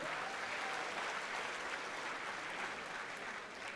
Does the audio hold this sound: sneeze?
no